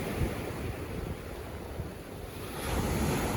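Sea waves break and wash along a winter shore at Gurzuf, a steady rushing surf with heavy wind buffeting the microphone, swelling louder near the end, with no voices.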